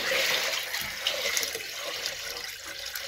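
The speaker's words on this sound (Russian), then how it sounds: "Налей, пожалуйста, в тот тазик вот сюда побольше." Water poured into a basin for puppies to drink from, a steady broadband splash and gurgle running throughout without speech.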